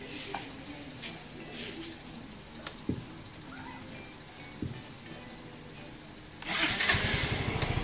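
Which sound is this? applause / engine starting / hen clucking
engine starting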